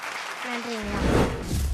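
A speaker's voice trails off, then an audience breaks into a short burst of lively clapping at a Tamil speech event, the applause building to a peak within about a second.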